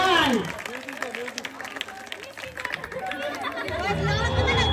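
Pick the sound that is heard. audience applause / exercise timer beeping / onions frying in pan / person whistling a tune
audience applause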